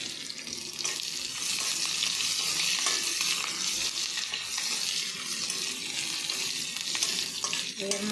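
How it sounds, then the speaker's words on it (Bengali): Ginger and green chilli paste fries in oil with bay leaf and five-spice seeds while being stirred in a pan, making a crackling sizzle broken by scraping strokes of the spoon, fairly close and with no talking. "এবার মশলাটা ভাজা হয়ে গেছে"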